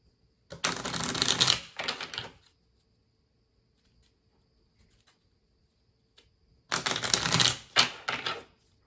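Tarot cards are shuffled in two brisk, close bursts, the first about two seconds long, then near silence for several seconds before a second riffling burst.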